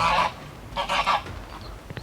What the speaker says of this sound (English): The geese, the ducks, the kangas